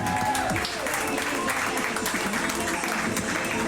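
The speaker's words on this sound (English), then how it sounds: "Round of applause for Royal Berkshire." Crowd applause at a summer league tournament for the winning team, Royal Berkshire, sounding as steady, dense clapping throughout with a voice speaking over it.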